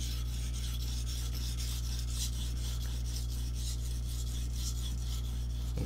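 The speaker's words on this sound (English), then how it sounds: "I bring the angle slightly in, ever so slightly in, and I start my sharpening." A paring knife is sharpened by hand, its blade stroked across a sharpening stone in rapid, regular rasping passes, close and continuous, with a steady low hum underneath.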